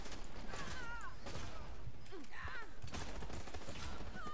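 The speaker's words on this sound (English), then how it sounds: "Oh, it's burst fire, I don't like burst fire." Burst-fire gunshots from a weapon in the online shooter Dirty Bomb, in a defender round on the Underground map. The shots come in dense, repeated volleys over a busy mix of game sounds and short whistling tones.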